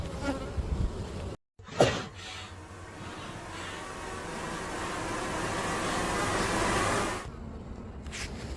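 Bees buzz steadily around an open green Macquarie beehive during an inspection, a dense insect drone that swells slightly and holds for several seconds, broken by a brief gap and a soft knock near the start.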